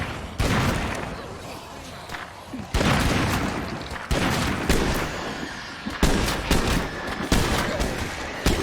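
Gunshots fired at zombies in a video game: a series of loud, sharp shots and heavy thumps, evenly spaced, with reverberant booms between.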